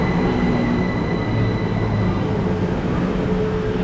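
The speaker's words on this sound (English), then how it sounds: "now we're arriving into Hayes and Harlington station" A train arrives at Hayes and Harlington station with a loud, steady rumble of wheels and motors, a faint high squeal riding over the continuous noise.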